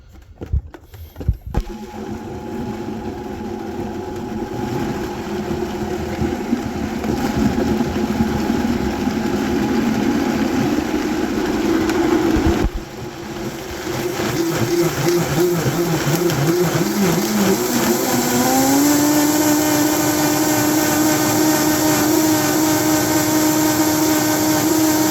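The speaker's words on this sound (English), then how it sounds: "we're just gonna blend this till it's real smooth" A blender whirring through a cilantro, onion, salt and pepper marinade for tacos al pastor, a loud steady motor drone that cuts out briefly midway, restarts and climbs in pitch as the mix smooths.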